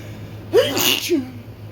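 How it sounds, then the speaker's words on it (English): A single sharp sneeze, close and loud, with a quick intake of breath before the burst and a faint vocal tail after. "I'm gonna sneeze."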